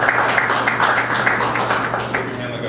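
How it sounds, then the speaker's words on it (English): A live audience at a show in LA gives a dense, continuous round of applause at an even level throughout, with a faint low hum and some voices mixed in. "Give him a round of applause."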